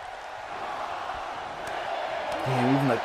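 A virtual arena crowd roars continuously during an ECW wrestling match featuring Omos in a wrestling video game. The cheering is a steady, broad wash, and a voice begins talking over it near the end.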